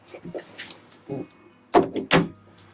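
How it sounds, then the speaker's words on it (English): A door on the head of a 2025 Ranger Tug R27 boat cabin is pushed shut, giving a few close, sharp knocks and thuds amid brief talk. "Shut the door."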